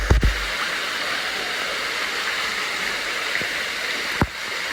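Steady, full rush of a waterfall pouring inside a cenote, a constant broadband roar of running water with a couple of faint knocks, close and unbroken throughout.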